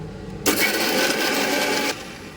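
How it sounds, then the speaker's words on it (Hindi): A kitchen mixer grinder whirs loudly in one continuous burst of about a second and a half as it grinds garlic, whole cumin and green chillies, starting and stopping abruptly. "इसको अच्छी तरह से मिक्सी में"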